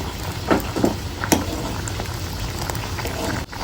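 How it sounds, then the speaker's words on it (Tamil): Tomato vatha kuzhambu boils in a pot, a steady bubbling simmer with a few louder pops and splutters near the start, heard close and without speech. "குழம்பு வந்து செமையா கொதிச்சிருச்சு"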